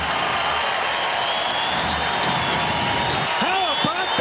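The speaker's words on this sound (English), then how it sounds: "That's the biggest cheer we've heard in a month at Shea." Fans at Shea Stadium during a Pittsburgh Pirates at New York Mets baseball game cheer in a loud, sustained roar with whoops, while someone talks over the crowd.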